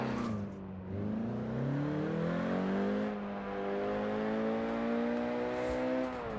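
Renault Clio RS 197 engine in Forza Horizon 4 revs up and holds a smooth rising drone, easing off and climbing again through the gears, loud and close with no talk.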